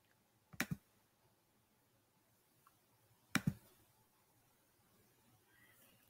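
Sharp computer mouse clicks on a download button, heard as three separate, brief clicks spaced a few seconds apart, close and fairly quiet against a faint room background.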